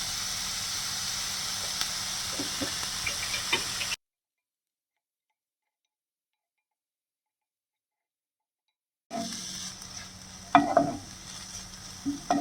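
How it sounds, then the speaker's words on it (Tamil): Onions sauté in oil in a pan for pepper chicken, giving a steady low sizzle with occasional stirring scrapes, broken by a stretch of complete silence in the middle. "வெங்காயம் ஓரளவுக்கு வதங்கிடுச்சு. இன்னும் கொஞ்சம் வதங்கணும்."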